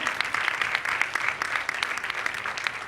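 A church congregation applauds, dense and steady clapping from many hands filling the room for a few seconds, with no voices standing out.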